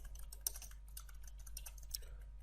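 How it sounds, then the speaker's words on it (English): Computer keyboard typing while building a web form: soft, quiet, irregular key clicks with a couple of slightly sharper taps, alone over a low steady hum. "here in the label I'm just typing the username again"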